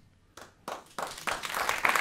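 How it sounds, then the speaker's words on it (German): A talk show studio audience breaks into applause that starts with a few scattered claps and swells quickly into loud, dense clapping. "Wir werden hier aus dem Applaus nicht rauskommen heute Abend"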